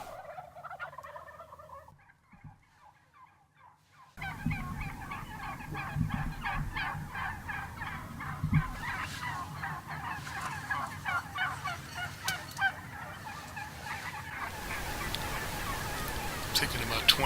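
A large flock of wild turkeys roosting in trees in Kansas, many toms among them, gobbles repeatedly in overlapping bursts, moderately distant, after a short quiet stretch with faint earlier calls.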